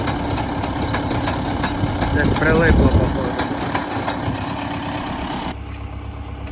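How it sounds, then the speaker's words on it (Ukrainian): A tractor engine idles with a steady low rumble during manure loading while someone speaks over it; the engine note shifts slightly near the end. "Трактор десь покатив."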